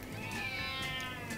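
A cat in a Moscow cat café gives a short, faint meow with a wavering pitch against quiet room background.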